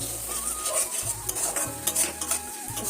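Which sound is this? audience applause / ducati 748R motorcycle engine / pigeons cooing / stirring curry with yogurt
stirring curry with yogurt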